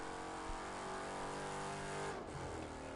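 A car engine in The Crew 2 racing game holds steady at high revs under full throttle, loud and continuous, with a brief dip near the end.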